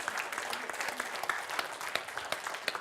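An audience at a health seminar claps briskly and unevenly for about three seconds, with many hands at once and no speech over it.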